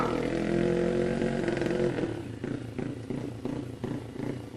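A Honda Wave motorcycle race engine runs loud and steady, then settles into a choppy, sputtering idle with uneven pops from the exhaust.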